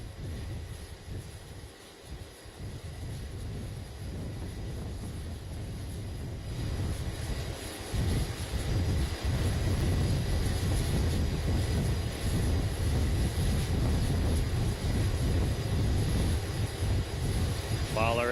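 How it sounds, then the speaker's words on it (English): Military jet aircraft returning to an aircraft carrier during a naval celebration event, a loud steady roar of jet engines that swells and holds near, with faint voices underneath. "3 of our aircraft are returning from the fight now"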